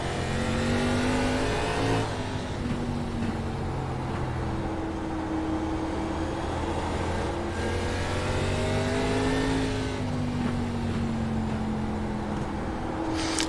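Race cars in the iRacing ARCA Series at Lanier drone steadily at high revs, engine pitch rising and falling as cars pass, with a dense continuous roar throughout.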